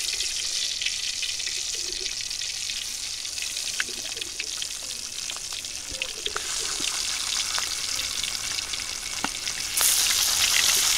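Hilsa fish coated with turmeric and salt frying in hot oil: a steady, crackling sizzle with scattered pops throughout, close and continuous, with no talk.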